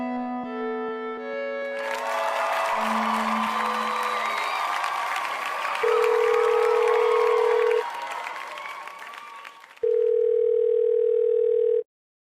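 Telephone tones while a prank call is placed: steady electronic beeps and a dial tone, with crowd cheering and applause swelling beneath them partway through, then long flat ringback-style tones near the end.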